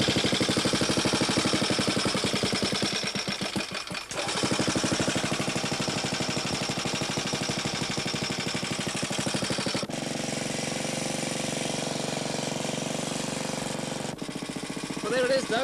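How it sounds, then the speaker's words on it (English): A coal gas engine chugs loudly and continuously with a rapid mechanical pulse, its tone shifting a couple of times as it runs. "Well, there it is, Doug, the coal engine."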